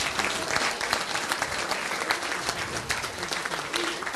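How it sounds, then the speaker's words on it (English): Applause at a La Verne city council meeting honoring a youth program's parents and coaches, a brisk, full round of clapping from the chamber at moderate volume. "a round of applause for him, and also all the other parents and all the other coaches"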